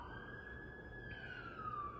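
An emergency vehicle siren in Vancouver city streets, a steady wailing tone that slowly shifts pitch, heard from a distance over constant low traffic rumble.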